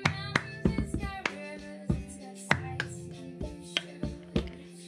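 Hands clapping and slapping a tabletop in a children's hand-clapping game make a close, rhythmic string of sharp claps and taps, with a steady musical tone sounding underneath.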